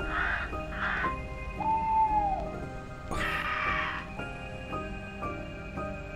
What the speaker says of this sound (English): The crow caws, right?